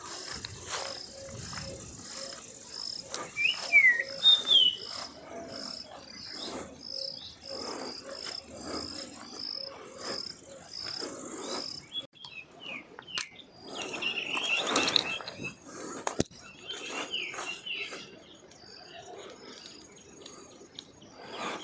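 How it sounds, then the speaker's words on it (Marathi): Birds sing and chirp among lemon trees and other trees in a rural grove, bright calls scattered through the whole stretch with a steady insect hum beneath, moderately near and no talking. "पहा ते पशुपक्ष्याचे आवाज, सुंदर असे आवाज देत आहेत पक्षी."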